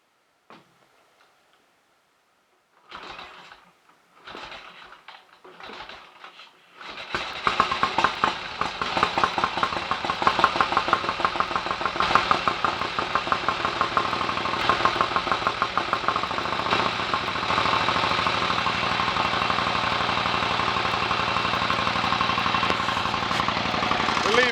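A 1930 Royal Enfield 1000cc Model K motorcycle: a few faint clicks and sputters, then the engine catches and settles into a loud, steady, rapidly ticking fast idle that runs on alone.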